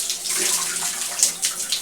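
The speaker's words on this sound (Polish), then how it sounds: "Niedzielny poranek, Inusia bierze prysznic" A shower of water sprays steadily over an eclectus parrot bathing, a continuous close hiss of falling droplets with small splashes as the bird moves under the stream.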